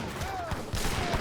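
In Age of Empires III, a city's defenses fire off a quick volley: a cluster of short, sharp cracks and thuds in rapid succession over a busy battle background, with a faint whistling tone.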